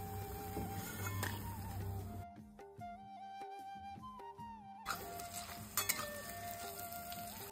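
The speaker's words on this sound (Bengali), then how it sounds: "পটেটো ফিঙ্গারগুলো ভাজার সময় আমরা কিন্তু গ্যাসের ফ্লেমটাকে মিডিয়াম টু হাই রেখেছি।" Potato fingers deep frying in hot oil over a medium-high gas flame, a steady sizzle that drops out in the middle and then returns, with faint clinks from a utensil and music beneath.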